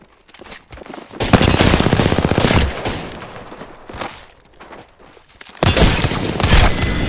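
Rapid bursts of gunfire in the video game Apex Legends, loud volleys of automatic shots in two main stretches separated by quieter gaps with scattered single shots and impacts.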